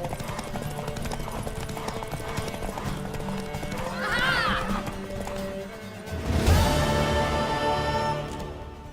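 In The Witcher III: Wild Hunt, a horse whinnies over rhythmic clip-clopping hooves, with background music and voices talking throughout.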